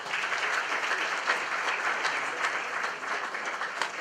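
An audience at an Azerbaijan presentation night in South Korea gives steady, even applause to welcome the embassy's First Secretary. The clapping is dense and sustained, holding at a moderate level throughout.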